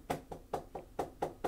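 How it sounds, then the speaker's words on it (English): Knocking on a door during a late-night anime live stream: six sharp, evenly spaced raps spread over a second and a half, close and fairly loud, with no voices over them. "I hear somebody's at the door."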